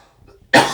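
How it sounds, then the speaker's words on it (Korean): A lecturer coughs during a geometry lecture: a sudden, loud, close cough bursts in after a near-silent pause and lasts to the end. "잠시 기침 좀 하겠습니다."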